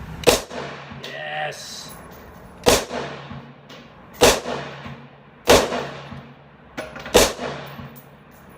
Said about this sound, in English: I'm going to go ahead and put some rounds down range with this, and we'll see how she functions